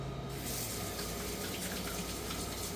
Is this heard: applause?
no